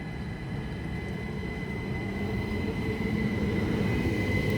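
A passenger train pulls into Tonbridge station on the down main line. Its steady, loud rumble fills the whole stretch, with a faint high whine from the motors or wheels above it. No one talks.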